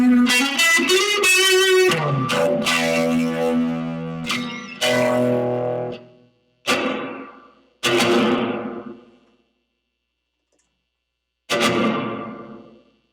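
An electric guitar plays through a Fender Champion 20 amp with its tap reverb effect: quick strummed chords first, then single struck chords left to ring out and decay into silence.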